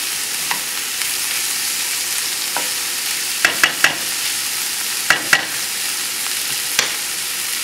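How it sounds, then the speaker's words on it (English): Onions sauté in a pan for a potato casserole with bacon and garlic, a steady broadband sizzle running throughout, broken by a few sharp clicks and scrapes of a utensil stirring against the pan. "just saute that until the onions are translucent"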